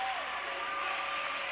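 High school boys basketball crowd at North Penn vs. Pennsbury in a one-point game with seconds left, a dense, continuous roar of cheering and applause filling the gym, loud and sustained with no breaks.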